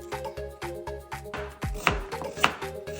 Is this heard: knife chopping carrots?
yes